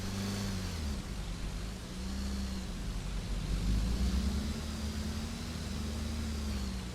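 A fast car in the Roblox driving simulator game hums along with a steady mid-pitched engine drone that swells and eases slightly, with no voices.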